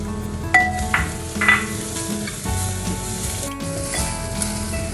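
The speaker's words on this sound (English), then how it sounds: "Ginger and garlic, 1 tablespoon of each. I'm going to put it in the onions and saute it." Ginger and garlic sautéing with onions in a pan, a steady sizzle with a couple of louder stirring scrapes early on, close and fairly loud.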